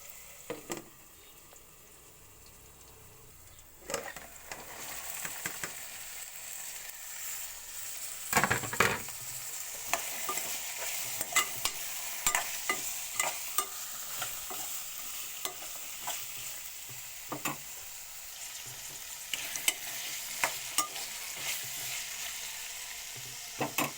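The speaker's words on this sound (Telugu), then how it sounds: "కాసేపు ఆయిల్లో కొంచెం మగ్గాలి." Chopped vegetables fry in oil while being stirred, a soft continuous sizzle broken by scraping and clattering strokes of the spoon against the pan, close and steady.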